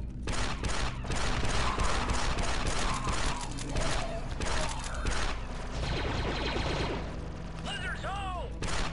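Pistol fire from Star Wars: Republic Commando, a dense run of rapid sci-fi blaster shots crackling loudly through the first half amid battle noise, then thinning out as chirpy electronic droid-like tones and voices take over near the end.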